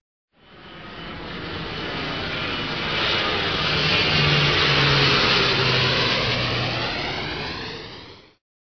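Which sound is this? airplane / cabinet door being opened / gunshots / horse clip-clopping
airplane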